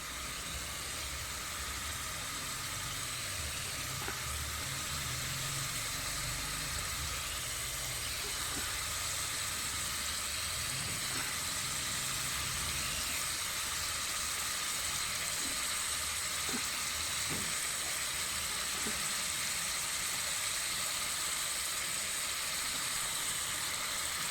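Chicken bhuna masala roasting in a pan, a steady, fairly faint broadband sizzle and hiss that runs unbroken throughout, with a few soft clicks of stirring.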